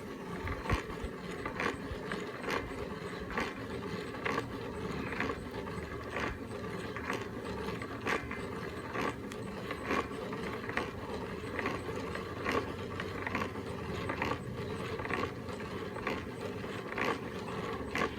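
A hand-cranked grain mill grinding corn into fine masa for tortillas, giving a steady mechanical ratcheting, clicking grind that runs continuously and close up with no speech.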